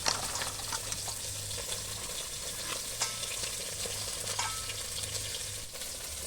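Sliced potato frying in raw mustard oil, a dense continuous sizzle with faint stirring scrapes, close and steady throughout.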